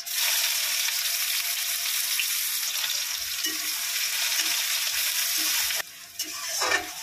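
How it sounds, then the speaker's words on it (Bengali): Chopped onion and black cumin frying in hot oil, a loud, steady hiss with a few soft stirring knocks, cut short near the end by a sharp scrape and clatter. "পেঁয়াজটা আমি লাল করে ভেজে নেব।"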